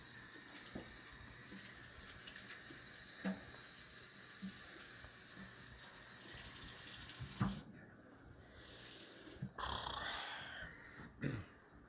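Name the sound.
water running from a sink tap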